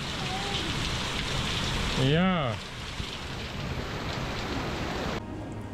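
Heavy rain hisses steadily and loudly, with gale-force gusts of wind, heard from a boat moored in a marina in Monaco; a voice says a single word partway through.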